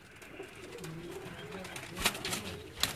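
Breeder's Teddy pigeons at a home loft give low, rolling coos, steady and near, with a couple of sharper clicks or flutters later and faint people talking in the background.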